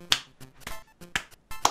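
A single sharp clap or snap-like hit rings out as a sound effect, a few similar brief crisp transients spaced apart over a short quiet stretch.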